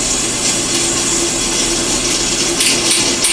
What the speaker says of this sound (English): Now I'm going back and drilling the other 2 bolt holes that will hold the caster.